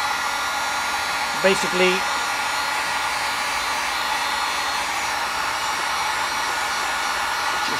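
A heat gun blows hot air while warming a Yamaha BW50 scooter during an oil leak repair, making a steady, close whooshing roar throughout, with a brief spoken word near the start.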